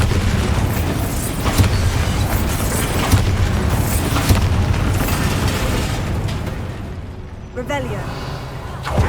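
Bombarda explosion spell in the video game Hogwarts Legacy, with loud repeated blasts and pops over a busy combat mix.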